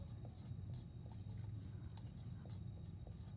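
Pen or pencil writing by hand while working a math problem, a few soft, quiet scratching strokes in short bursts against a low hum.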